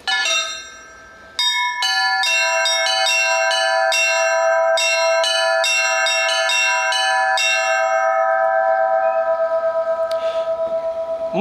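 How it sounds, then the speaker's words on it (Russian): Church bells rung in the Moscow tradition with improvisation, a loud cluster of bright struck strokes in irregular rhythm, each leaving a long ringing hum that sustains and slowly fades near the end. "Мы звоним так называемой московской традиции"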